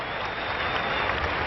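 A 90,000-strong crowd at the Centenario stadium applauds at the 1930 World Cup final between Uruguay and Argentina, a dense, continuous wash of clapping and crowd noise in a muffled, band-limited old recording.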